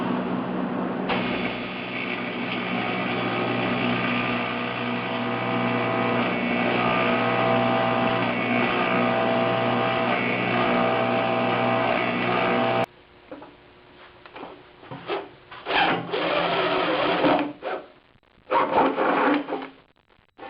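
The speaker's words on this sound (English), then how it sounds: "And might as well weld on these mounts." Mounts welded onto a fabricated air box for a 1976 Mazda RX-5 Cosmo: a long steady mechanical hum, then several short crackling welding bursts broken by quiet pauses.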